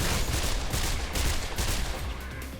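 Gunfire in the video game Mirror's Edge: a dense, sustained burst of rapid shots, loud and close, running unbroken through the whole clip with no speech.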